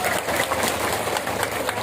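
Audience clapping at an Islamic religious lecture, a brief burst of dense, close applause with a voice briefly over it.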